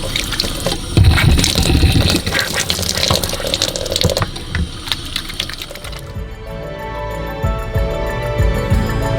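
Water runs from a van's 40-gallon tank hung beneath the bed, a loud, close, continuous gushing splash that thins into a lighter trickle near the end.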